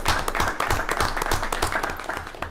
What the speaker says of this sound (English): I think it'd be nice if we just gave a quick round of applause to all of our folks